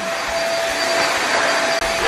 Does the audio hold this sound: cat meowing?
no